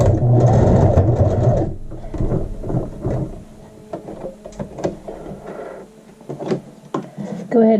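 A sewing machine runs a short burst of back stitching to secure fabric loops onto the front of a child's shirt, followed by quieter clicks and handling sounds at close range.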